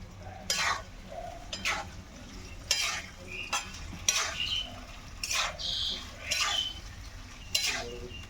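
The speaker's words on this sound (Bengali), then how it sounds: "এবার আমি এটাকে ভালো করে ভেজে যাবো" Repeated scraping and stirring strokes as paneer fries in a pan over a low sizzle, about ten spatula passes in an uneven rhythm, close by.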